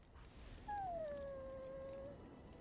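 A dog in Dragon Age: Origins lets out a single drawn-out whine, faint and falling in pitch, lasting over a second before trailing off.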